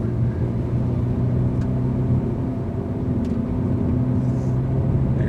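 A car engine drones loudly and steadily under hard throttle, a continuous low rumble with a constant pitch heard from inside the cabin and no voices.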